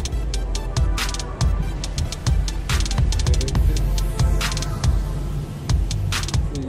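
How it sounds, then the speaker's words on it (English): Car driving around Sarandë, Albania, heard from inside as a steady low road rumble broken by frequent light clicks and rattles throughout. "I love driving around."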